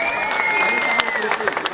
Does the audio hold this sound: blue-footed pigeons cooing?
no